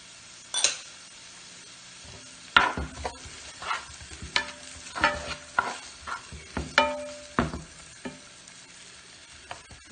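Collard greens and saltfish cook down in a pot with a soft sizzle, broken by scattered spoon stirs and clinks against the metal pot.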